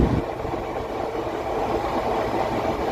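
A passenger train in India slows as it nears Maliya Miyana junction, its continuous loud, close rumble of wheels and carriages steady throughout with no talk.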